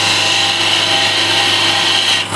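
Spindle gouge taking light cuts on very hard, dense timber spinning on a wood lathe, a steady close hiss and rasp of cutting that runs unbroken and loud throughout.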